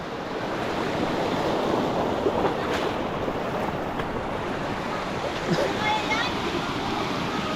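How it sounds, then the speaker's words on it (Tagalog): A strong river current rushes during a difficult crossing on a fishing outing, a dense, steady roar of churning water with gusty wind noise on the microphone throughout. "Grabe mga kalingap, napakahirap pala tumawid dito. Napakalakas ng agos."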